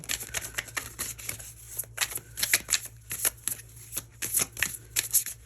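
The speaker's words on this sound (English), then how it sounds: "these cards came flying out as I was shuffling" Tarot cards are riffled and shuffled up close in quick repeated bursts, a crisp flapping rhythm with short pauses between shuffles.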